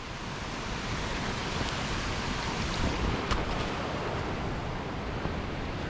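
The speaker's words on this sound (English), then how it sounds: "the roar of the river" A river roaring through a Scottish forest, a continuous, broad rushing of water that is steady and fairly loud, with no talking over it.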